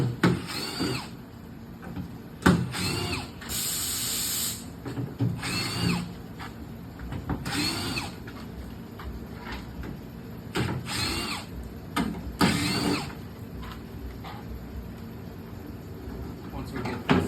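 A power drill buzzes in short bursts while removing the access panel on a pickup tailgate, with clicks and clunks between runs. A voice talks throughout.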